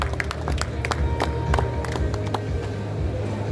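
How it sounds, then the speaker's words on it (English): Applause at a textile trade fair opening in a large convention centre, with scattered sharp hand claps over a crowd murmur and a steady low hall hum. "Please keep raising the round of applause."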